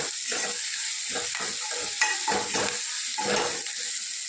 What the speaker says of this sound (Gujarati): કઢી પત્તું નાખી